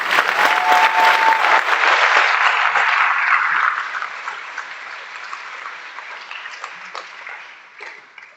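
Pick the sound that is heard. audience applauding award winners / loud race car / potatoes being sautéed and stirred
audience applauding award winners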